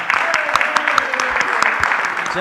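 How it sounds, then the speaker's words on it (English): Audience applause at a live devotional gathering, a steady wash of many hands clapping with scattered sharper claps throughout, fairly close and continuous. "Massive round of applause to all of them"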